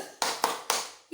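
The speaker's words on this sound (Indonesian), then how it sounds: "Tepuk Yesus." Children at a church service for kids give a few quick claps in a short, rhythmic burst, with a voice starting right at the end.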